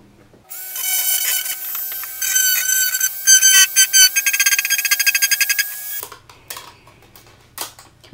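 A power drill fitted with a sanding bit grinds the corners of wood for a DIY arboreal enclosure, a loud high whine with rapid pulsing bursts as the bit bites, then stopping abruptly into quieter rattles.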